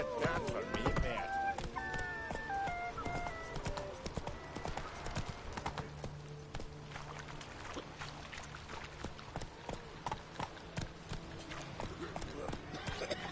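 Hooves of Roach, the horse in The Witcher game, clip-clop in a steady galloping rhythm, fairly close and continuous. Talk and game sounds run over the hoofbeats.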